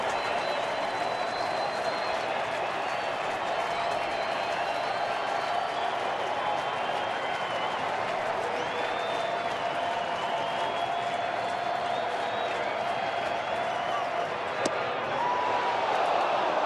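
A baseball stadium crowd at an NLDS playoff game between the Cardinals and another team gives a sustained, even roar of cheering and applause, broad and continuous, under faint commentary.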